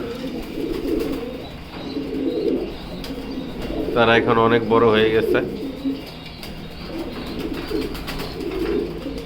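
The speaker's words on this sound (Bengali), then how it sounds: "তাহলে চলুন আমরা কবুতরগুলো দেখি" Black racer pigeon squabs coo in low, steady murmurs close by through most of the stretch, while a person talks over them briefly in the middle.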